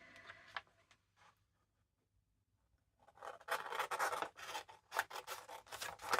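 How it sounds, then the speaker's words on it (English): Scissors snip through paper flaps at a craft desk, a few faint cuts and rustles at first, then a quiet pause, then a louder, busy run of rapid snipping and crisp paper scraping up close. "So let me grab my scissors and cut these out."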